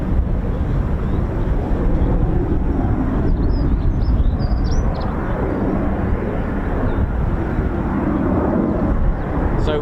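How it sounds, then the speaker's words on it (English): Texan training aircraft depart for a flypast, their engines giving a loud, continuous drone. Wind buffets the microphone and faint chirps sound briefly. "Texans are going out now, so they're part of the fly past."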